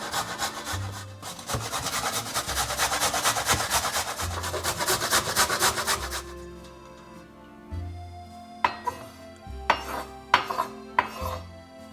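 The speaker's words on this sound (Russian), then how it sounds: "1 морковь натру на средней терке" A carrot is grated on a medium grater in a home kitchen, dense rapid rasping strokes for about six seconds, then quiet pauses broken by a few sharp taps and clinks.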